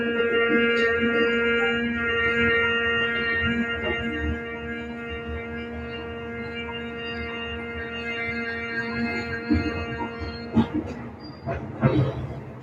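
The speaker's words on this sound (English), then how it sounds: "when we exhale, we're going to put our lips together and do a humming sound" During a yoga breathing exercise, a steady, closed-lips humming exhale rings as a sustained low drone, continuing evenly for several seconds before some faint rustles and small knocks near the end.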